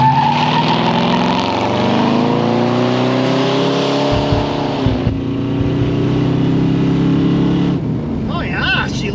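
A rare Lincoln Mark VII LSC field find, revived after sitting, revs loudly and holds high engine speed while shredding a tire in a burnout, the roar steady and close with pitch rising and falling, and a voice briefly heard.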